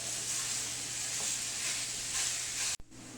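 Steady sizzle of sausage frying and browning in a pan as it is broken up with a small wooden paddle, with a constant hiss and a sharp clunk near the end.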